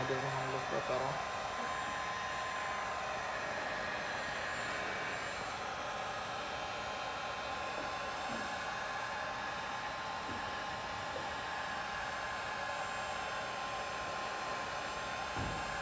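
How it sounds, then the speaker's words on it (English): A heat gun blows hot air steadily and loudly at close range onto the plastic body cladding of a 1997-2001 Jeep Cherokee, a constant hiss that runs unbroken from start to finish with no talking. "If you guys are using a heat gun and have never used one before, just be careful you set this thing down."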